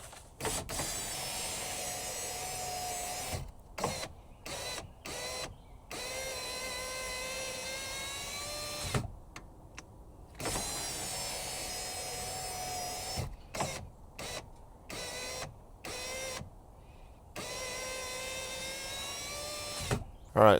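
A power window motor in a 2017 Sierra 1500 runs after a regulator replacement, a steady whining hum that starts and stops repeatedly in short bursts with brief quiet gaps, close and fairly quiet.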